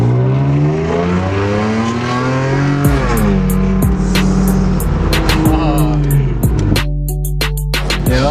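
A car engine is revved hard up toward the redline, loud and close, with the pitch sweeping up and down through repeated blips while people talk and shout nearby.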